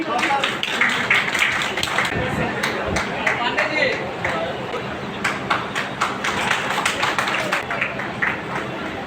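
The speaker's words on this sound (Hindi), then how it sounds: "एक जोरदार ताली आप सभी लोग" A hall audience claps loudly for a guest on stage at a company's seventh anniversary celebration in Darbhanga. The applause is dense and sustained, with crowd voices mixed in throughout.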